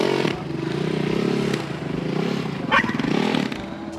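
A motorcycle engine runs steadily close by, revving a little higher near the end, with rattly mechanical clatter throughout.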